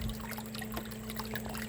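A garden hose pours water into a plastic pail outdoors in a woodland garden, a steady close gushing and trickling wash with no talking.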